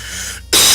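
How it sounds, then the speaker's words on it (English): A man clears his throat during gaming commentary: a quiet hum of room tone, then one sudden loud, harsh rasping burst near the end, close to the microphone. "Trying to clear my throat there, do apologize."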